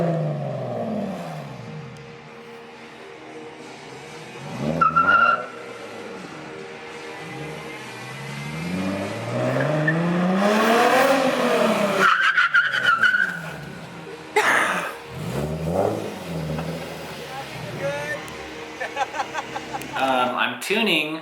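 Nissan 370Z fitted with big brakes braking hard, with engine revs rising and falling, tire noise and a squeal as it stops, while people talk and laugh over it.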